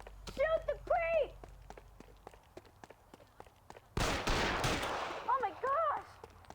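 Gunshots ring out in the crime video game LA Noire as sharp, scattered cracks mixed with voices, then a loud burst of rapid firing in the middle before the talking resumes.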